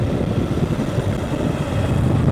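Wind rushes hard against the microphone during a motorcycle ride, a loud continuous low buffeting roar that persists throughout with no speech.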